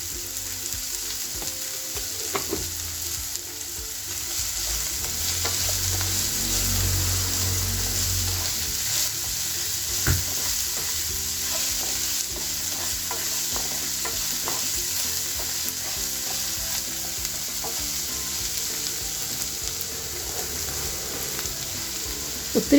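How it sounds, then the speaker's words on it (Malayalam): Onions sautéing in oil with a little salt for chole masala, a steady close sizzle with stirring scrapes and clinks of a spatula throughout, slightly fuller frying noise early on. "അല്പം ഉപ്പിട്ട് കൊടുത്താൽ ഉള്ളി എളുപ്പം വഴന്ന് കിട്ടും"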